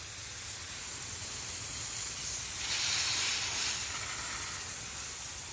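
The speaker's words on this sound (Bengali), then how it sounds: "দেখো আমি জল দিচ্ছি" Water sprays onto a vegetable garden as a steady broad hiss that swells briefly in the middle, with no voices.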